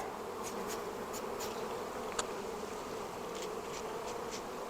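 Honey bees buzzing in a steady, dense drone after being shaken off a hive frame, close and continuous with a few sharper individual passes and a single brief tap.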